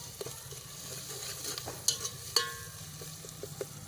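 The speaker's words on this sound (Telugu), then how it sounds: "ఇప్పుడు అల్లం వేసుకొని బాగా తిప్పాలి" Ginger sizzles and fries in a hot pan with chillies as a spoon stirs it, a steady close crackle broken by a few sharp scrapes of the utensil against the pan.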